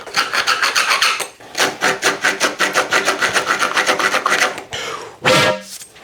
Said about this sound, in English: Deburr that, internal and external.